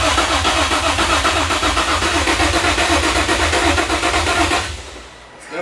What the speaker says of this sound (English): Keep the gas to the floor, keep the clutch to the floor, turn it over.